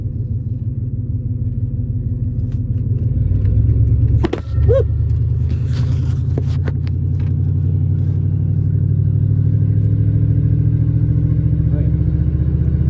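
A 1964 Oldsmobile Super 88 engine rumbles steadily while driving, heard from inside the car as a loud, low, continuous drone with a brief clatter partway through.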